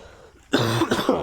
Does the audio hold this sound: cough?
yes